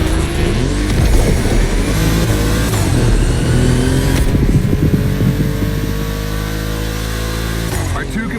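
Racing cars, Volkswagens, on a track in The Crew Motorfest: a continuous loud engine drone with rising revs and gear shifts, close and steady throughout.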